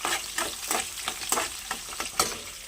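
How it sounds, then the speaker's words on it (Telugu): Onions and ginger frying in hot oil for wheat rava upma, a steady close sizzle with rhythmic scraping stirs about every third of a second. "ఇది ఇంకా ఫ్రై అవ్వడం"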